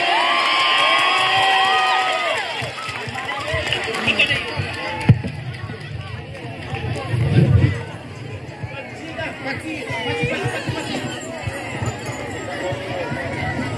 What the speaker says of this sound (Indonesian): kita tepuk tangan sekali lagi untuk